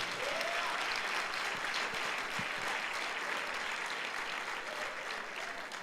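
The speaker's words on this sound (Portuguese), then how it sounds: "Dá um aplauso a Jesus." Church congregation applauds during a pastors' gathering, a sustained, dense roar of clapping that fills the room evenly from start to finish, with faint crowd noise underneath.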